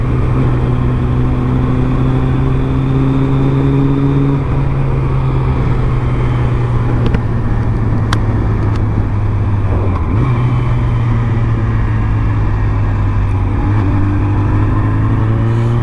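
A Suzuki Hayabusa motorcycle engine revs up steadily around 3,500 to 4,000 rpm, a loud close drone with a smooth, continuous tone and a small dip and recovery partway through.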